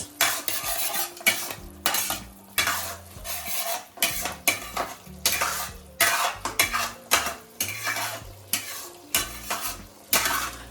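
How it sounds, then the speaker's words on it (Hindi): A utensil stirs onion into red pasta sauce for spaghetti, making repeated rhythmic scraping and clattering strokes against the pan over a faint sizzle. "हम अपने जो हमारे प्याज थी हम उसको ऐड कर सकते हैं यहाँ पे, and will just mix onion with the sauce."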